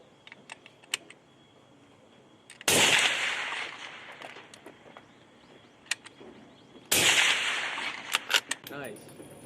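Two loud, sharp shots from an MK22 multi-caliber sniper rifle ring out about four seconds apart, each with a long rolling echo outdoors. Between them come faint clicks and handling noises, with a few quiet voices.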